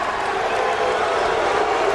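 A boxing crowd in Houston jeers fighter Chelo Diaz, a dense, steady roar of many voices that stays loud and unbroken for the whole stretch.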